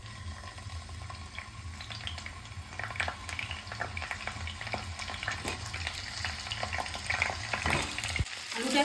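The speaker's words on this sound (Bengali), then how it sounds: "এবার আলুটা আমি ভেজে নেব।" Potatoes fry in a pan for veg aloo biriyani, giving a steady close sizzle with scattered clinks and scrapes of stirring, and no one speaking.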